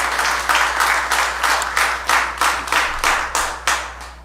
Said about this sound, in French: Applaudissons sœur Obia une fois.